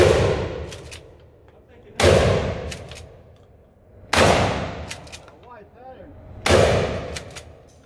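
A 12-gauge Mossberg 500 pump shotgun firing slugs and buckshot outdoors booms four times at roughly two-second intervals, each blast loud and close with a long decaying tail; faint voices sound between shots.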